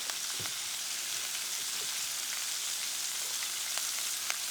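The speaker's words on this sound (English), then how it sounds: "Peppers coming in. Onions coming in." Peppers and onions fry in a pan with a steady, dense sizzle that stays even throughout, broken by a few faint clinks and small pops, with no talking.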